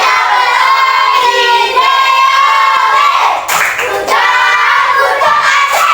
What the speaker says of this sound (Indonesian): kita berikan tepuk good job untuk kelompok 1. Tepuk good job